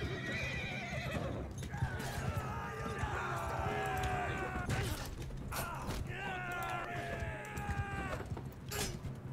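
Horses in Mount & Blade 2: Bannerlord whinny in long, wavering neighs over constant clip-clopping hooves and battle noise, with faint talk in the background.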